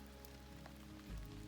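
Steady rain falls on a campsite along the La Cloche Silhouette Trail during breakfast, a constant soft hiss of drops with a brief low thump near the end, no voices.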